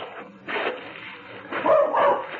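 A small dog barks and yips in a few close, loud bursts within an old radio drama, with short gaps between the barks.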